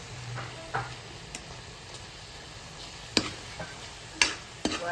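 Mango preserve (kairi murabba) with jaggery simmering in a pan while being stirred, giving a soft steady sizzle with a few sharp scrapes and clicks of the spoon against the pan, moderately faint, no talking.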